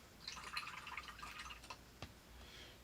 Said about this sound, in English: Just rinsing my brush off because it's had silver paint on it for a while